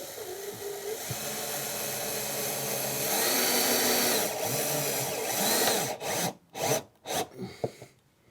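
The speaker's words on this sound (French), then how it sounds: "Maintenant je pose le dessus de la visseuse là-dessus, sur l'écrou, et c'est parti" A cordless screwdriver drives a screw onto a nut, a continuous buzzing whir lasting about six seconds, then breaking into short stuttering bursts as it stops and restarts.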